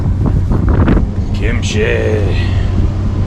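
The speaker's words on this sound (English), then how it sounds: "It is very windy." Strong outdoor wind buffets the microphone in a continuous, loud low roar, while a person speaks a word over it.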